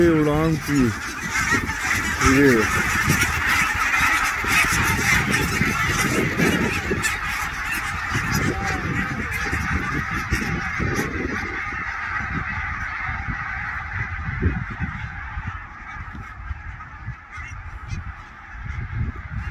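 A large flock of wild ducks coming in to land on a cricket ground in Norway, with loud, continuous massed honking and quacking calls close by, thinning and fading as they settle.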